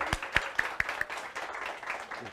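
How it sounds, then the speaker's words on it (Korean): A handful of scattered hand claps from a small audience congratulating an achievement at a business seminar, a few sharp distinct claps early that quickly thin out into a quiet, murmuring room. "우리 축하의 박수 한번 해볼까요?"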